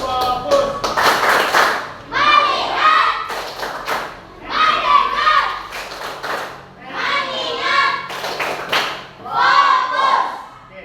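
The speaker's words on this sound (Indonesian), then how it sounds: "saya akan melakukan tepuk fokus" An Indonesian classroom of pupils performs the 'tepuk fokus' clapping chant, rhythmic bursts of group claps and thumps alternating with shouted children's voices in repeated phrases, close and loud.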